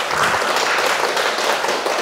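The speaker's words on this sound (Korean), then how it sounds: "박수 한번 부탁드립니다" Applause from an audience at a Buddhist-style Q&A talk, a steady dense wash of clapping with no clear separate strikes, moderately loud and even throughout.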